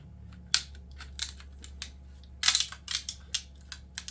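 Brittle 3D-printed support material from a 17-hour print of a fairy with a bird in hand crackles and crumples in quick, uneven bursts as it is cut away, close and fairly quiet.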